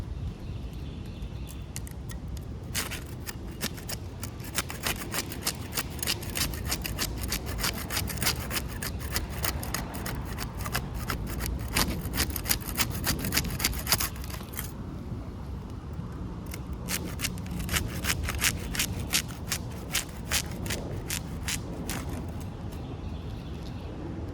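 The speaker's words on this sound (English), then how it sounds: "We'll use the putty knife to unseal the top shingles." A putty knife scrapes and rasps along roof shingles, prying up sealed tabs in a steady, close run of rough strokes with a brief pause midway.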